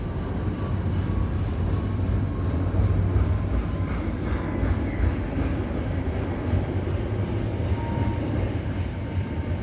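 A three-engine CPKC westbound intermodal freight train passes at night at Dorval. It makes a continuous low rumble and rolling clatter of railcars, steady and moderately loud throughout.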